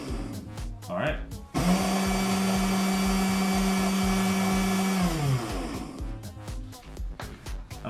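Small electric motor of an Axial SCX10 II RC car spins up to a steady high whine for about four seconds, then winds down, with someone talking before and after.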